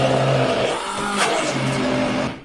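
A cheap blender pulverizing beetroot gives a loud, steady motor whine with harmonic drones that dip slightly as the load shifts, then cuts off at the end; no one speaks over it.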